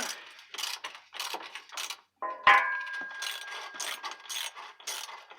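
Ratchet wrench working on the driveshaft bolt of a 1979 C3 Corvette, bursts of metallic clicking ratchet strokes repeating in a rhythm, with a brief ringing metal clink partway through, close up.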